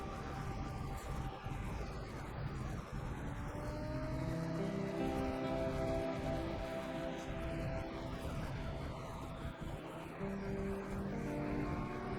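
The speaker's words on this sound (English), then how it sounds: "engine up on the Aramatsu, save a bit of fuel" Heavy Aramatsu truck engine idling and running steadily in the SnowRunner video game, a continuous low rumble with faint tonal whine, near and even throughout with no talk.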